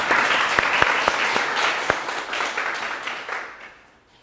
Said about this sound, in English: So come on up, give him a round of applause.